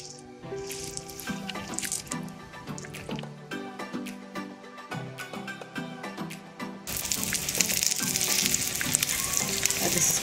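Oil sizzling in a hot pan that has been heating on the stove, with a steady frying hiss that grows louder and denser toward the end, plus light drips and clinks, with no talking.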